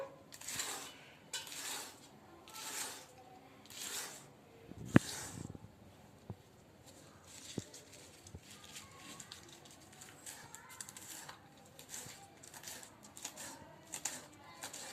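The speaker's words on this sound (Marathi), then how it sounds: "आता हे पानं अगदी बारीक कापायचे आपल्याला" A knife chops colocasia leaves finely, first in a regular run of soft, evenly spaced strokes, then in lighter, scattered taps. The cutting sounds faint and close throughout.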